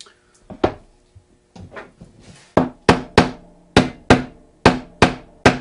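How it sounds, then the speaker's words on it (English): Hammer strikes driving metal pins into a bass guitar during a repair, sharp percussive taps that start sparse and become a steady, evenly spaced series of about eight loud, close blows. "And you put the pins in with a hammer"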